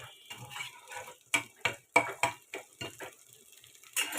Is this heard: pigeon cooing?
no